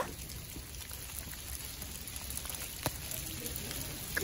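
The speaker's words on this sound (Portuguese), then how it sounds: "Não, cara, tá chovendo gelo." Hail falls in a steady, dense patter outdoors, a continuous hiss of impacts with an occasional sharper crack.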